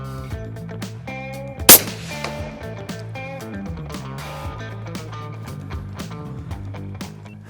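One sharp, loud rifle shot fired at a monkey during a varmint hunt rings out once over steady background music, followed by a brief echo.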